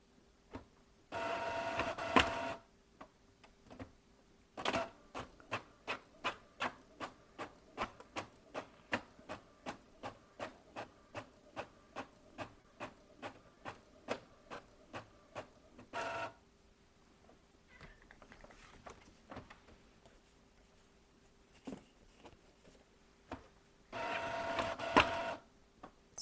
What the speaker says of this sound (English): Sorry for the printer noise.